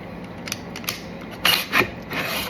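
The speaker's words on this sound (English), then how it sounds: "We can manipulate the bolt" Rifle bolt worked by hand during a dry-fire check, a few metallic clicks and sliding clacks close up, the sharpest pair near the middle, over a quiet background.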